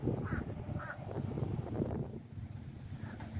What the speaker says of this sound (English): That bird's been making a ruckus for 10 minutes straight.